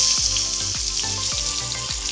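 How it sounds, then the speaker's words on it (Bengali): Onions frying in hot oil with dried chillies and fennel seeds, a continuous bright sizzle with a few soft repeated knocks underneath. "পেঁয়াজটা একটু ভাজা ভাজা হলে তারপরে সব উপকরণগুলো দিয়ে দেব।"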